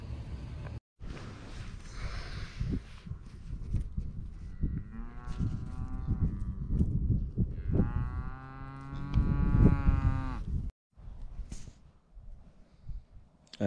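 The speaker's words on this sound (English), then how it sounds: "I'm surrounded by all these cattle." Cattle moo repeatedly, loud and close, in long drawn-out calls around a parked car at dawn, with a brief pause between calls and low rustling in between.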